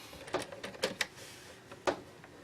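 A paper trimmer slices through paper while a star ornament is being made, giving a few short, crisp cutting snaps close by, with quiet pauses between them.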